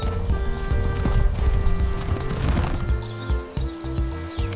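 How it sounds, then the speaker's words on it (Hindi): A horse runs with steady, rhythmic clip-clopping hooves close by, with a steady tonal backdrop running underneath throughout. "घोड़ा संतुलित कदमों से तेज दौड़ता है"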